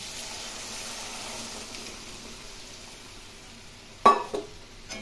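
Fish pieces go into a pan of cooked-down spice paste with salt, turmeric and tomato for a fish curry, a faint steady sizzle followed by two sharp clattering bursts close by.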